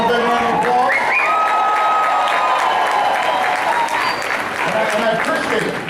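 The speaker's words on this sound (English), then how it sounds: "Give him a big round of applause." A crowd applauds loudly and steadily throughout, with some cheering mixed into the dense clapping.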